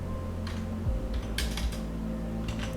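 Computer keyboard keys tapped while entering an SQL database query, a few short clustered clicks in bursts over a steady low background hum, close and fairly quiet.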